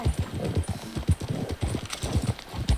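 Rhythmic hoof clip-clop from a horse in the video game Red Dead Redemption 2, steady paced steps close up, repeating evenly throughout with no talk over it.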